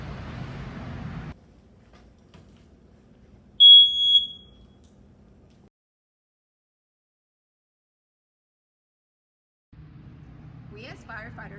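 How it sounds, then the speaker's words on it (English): A household smoke detector gives one short, piercing high electronic beep in an otherwise quiet stretch, with faint background before and after. "it warns you with a loud alarm sound so that you can hear it and get out quickly"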